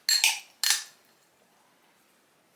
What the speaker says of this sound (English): I'll get a fork and mix it around.